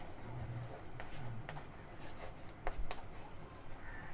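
Pencil writing on paper, soft close scratching and short strokes in an irregular rhythm, quiet and alone.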